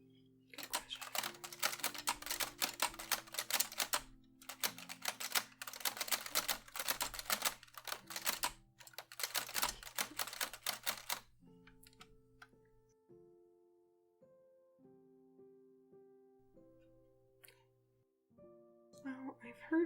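Keys clack on a manual typewriter in quick, crisp bursts with brief pauses for about eleven seconds, then the typing stops and only faint, sparse sounds remain.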